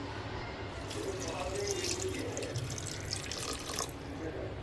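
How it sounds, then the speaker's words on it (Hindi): Water, about a glass, is poured into a dahi vada batter mix, making a steady, soft splashing trickle that runs continuously and fairly quietly throughout. "तो पानी मैं इसमें डाल दे रही हूँ"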